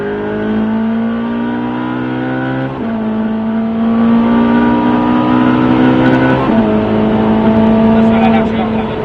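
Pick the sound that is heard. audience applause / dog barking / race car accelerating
race car accelerating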